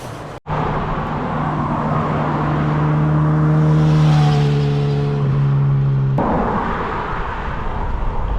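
A car drives along a main road, its steady engine drone and tonal hum swelling and fading close by, framed by abrupt handling knocks at start and end.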